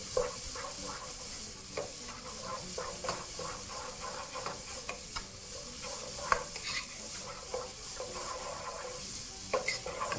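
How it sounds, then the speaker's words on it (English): Onions sweat in a pan over medium heat with a steady gentle sizzle, broken by frequent scraping and stirring strokes throughout, with no voices. "Now I'm going to be starting the cooking process with my temperature at medium. This is to actually just to allow the onions to sweat out really well"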